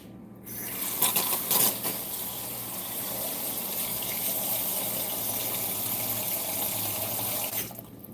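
Tap water gushes steadily into a pot of potatoes for ribs and truffle mashed potatoes, a loud continuous rushing pour that starts abruptly and cuts off near the end, alone without talk.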